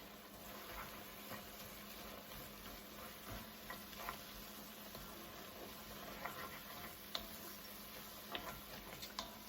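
Lentils cooking in a pan with herbs, a steady soft bubbling and sizzling simmer with scattered small ticks and pops, close and continuous at low volume, no voices.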